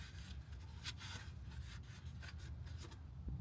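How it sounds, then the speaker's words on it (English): Rag wiping the outside of an oil drain plug on a 2008 Ford Explorer 4.0 V6, soft close rubbing and scuffing strokes in irregular bursts over a low steady background rumble. "wipe down the outside of the plug with this rag again"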